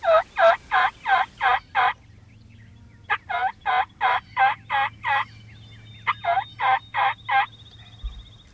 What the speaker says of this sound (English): here come a flock of jakes coming out